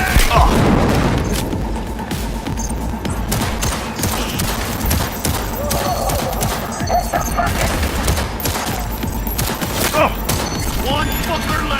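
Dense gunfire with explosive booms in the video game Cyberpunk, rapid cracks and bursts running steadily and loudly throughout, with voices shouting now and then over the combat.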